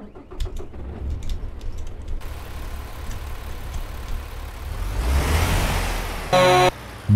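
A truck engine in American Truck Simulator cranks and turns over, then settles into a low rumbling idle that swells louder toward the end, with a short mechanical burst near the close and no talking.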